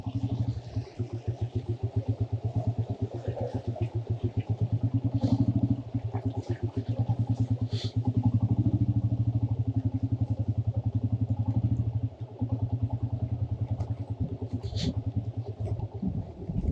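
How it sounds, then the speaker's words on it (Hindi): A motorcycle rolls downhill on a dry mountain road out of Kalash Valley, its engine putting out a steady, rapid thumping close by, with brief dips and wind noise along the way. "इसलिए हम थोड़ा सा तेज़ जाने देंगे बाइक को"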